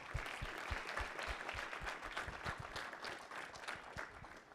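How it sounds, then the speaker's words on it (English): A round of applause from the audience at the 2022 Happy Valley Capital Pitch Competition for Penn State entrepreneurship, a fairly faint, sustained patter of many hands clapping with some individual claps standing out, lasting several seconds without talk. "let's give a round of applause to Penn State entrepreneurship"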